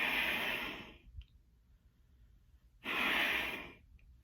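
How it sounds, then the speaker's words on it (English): Two breaths drawn in through the open mouth as a euphonium breathing exercise, each a loud, airy hiss about a second long, separated by near silence with a faint click between them. "it should keep your inhale very quiet"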